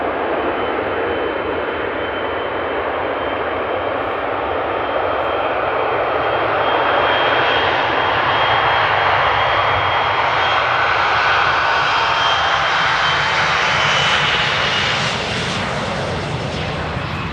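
Jet airliners taking off at Amsterdam Airport roar loudly and steadily, a broad rumbling engine blast that swells slightly as the aircraft climbs away, with no voices heard.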